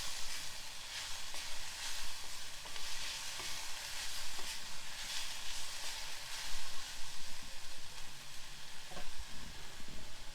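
Spoon stirring coriander with stems into bottle gourd chutney in a hot pan, soft scraping strokes over a steady sizzle, close and continuous with no talking.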